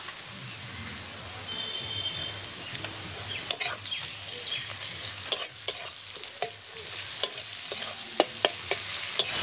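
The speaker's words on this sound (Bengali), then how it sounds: "রসুনটাকেও নেড়ে চেড়ে ভেজে নিয়েছি" Garlic paste frying in a pan on top of already browned onions, a steady soft sizzle with repeated sharp scraping clicks of a spatula stirring through the second half, close and with no talk.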